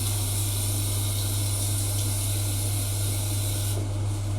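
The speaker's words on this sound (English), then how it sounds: "I'm just going to quickly wash my hands over here" Hands are washed under a running tap in a home kitchen during a vegan barbecue cookalong, a steady close spray of water hissing throughout over a low constant hum, with no talking.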